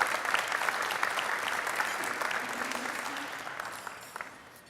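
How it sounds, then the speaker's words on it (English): Sustained audience applause at the Louisiana International Trade Gala, a dense crowd clapping that slowly tapers in volume, with a faint voice briefly audible underneath. "Let's give us a hand of applause."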